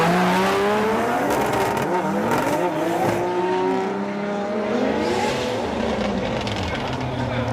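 Drift cars at a Formula Drift Japan round roar as they initiate a drift, engines revving hard with tire squeal, loud and continuous throughout.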